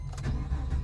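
A GMC or Chevrolet car engine cranks and catches as the key is turned, a brief low rumbling start heard close up with no talking.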